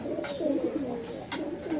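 Soft pigeons coo nearby in repeated throaty, rolling phrases, with faint rustling and a couple of brief scuffs in the background.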